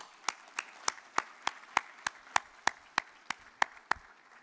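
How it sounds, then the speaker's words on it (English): Audience applause at a university graduation ceremony, heard as about a dozen evenly spaced, crisp claps, fairly faint and distant. "So, round of applause."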